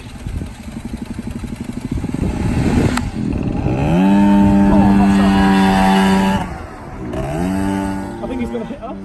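A Piaggio NRG MC3 50cc scooter revs hard and holds a high, buzzy engine pitch during a sideways drift, then the revs drop and climb again. Loud and close, with people talking.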